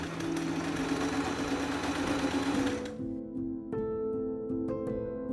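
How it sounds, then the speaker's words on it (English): Sewing machine stitches a shirt to a waistband in a fast, loud, continuous whir that stops after about three seconds, leaving a low hum and a couple of faint clicks. "Then I sew them together."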